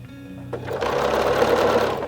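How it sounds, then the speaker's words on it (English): A sewing machine stitches straight through the pinned point of joined quilt pieces for a Star of Hope quilt, starting after a brief pause and then running in a steady, close, continuous whir with no talk. "And then we want to sew right through that intersection."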